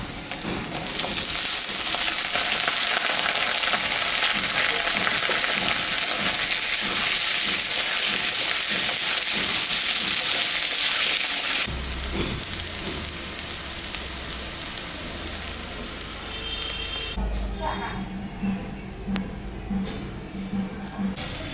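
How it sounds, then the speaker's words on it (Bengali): Dheki greens, ridge gourd and potato, all finely chopped, fry in a pan with a loud, steady sizzle that later drops to softer crackling and stirring. "এটা এখন আমি একটু ভাজা ভাজা করে নেবো"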